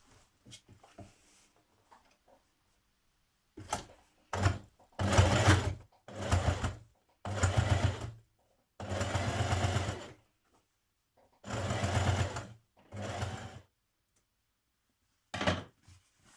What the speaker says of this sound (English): I'm going to top stitch on the right side there